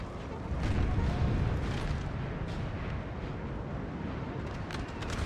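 Artillery fire in the video game Napoleon Total War, a steady rumble of distant booming shots and crackle layered over a dense battlefield din that swells early and stays continuous.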